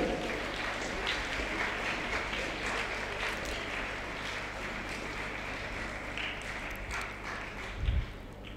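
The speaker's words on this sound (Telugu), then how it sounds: "ఇప్పుడు చప్పట్లు కొట్టండి ఒకసారి." Audience at a ceremony clapping steadily for several seconds, a dense, even patter that stays moderately faint and holds throughout.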